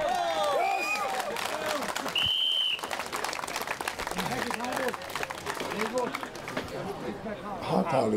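Spectators at a W.N.S.F. team world championship in Esztergom applaud in a sustained, dense patter of clapping that carries on under a commentator's voice.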